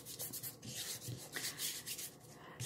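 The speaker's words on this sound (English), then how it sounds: "And I'm going to smooth this over with my hands." Hands rub and smooth a Chalk Couture stencil flat onto a spring sign, a soft, steady close-up brushing.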